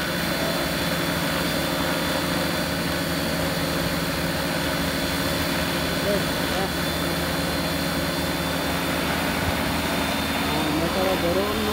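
A large agricultural spraying drone flies over the Ariake Sea area, holding a loud, steady engine whine and drone for the whole stretch while people talk nearby.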